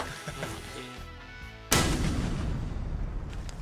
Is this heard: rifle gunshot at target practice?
yes